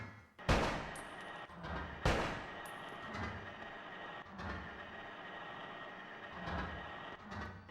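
Gunfire from a PS2 video game aimed at targets, with two loud blasts near the start followed by several softer, irregular shots over a humming background.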